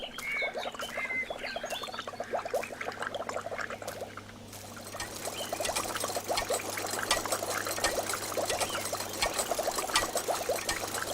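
Flowing, trickling water in a retro video game, a steady pouring wash that runs throughout at moderate level, slightly dipping midway then swelling again, with faint croaking game sounds mixed in and no talking.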